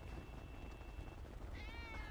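A cat meows in the video game GTA 5, a short rising meow near the end over a faint steady background hum, very quiet overall.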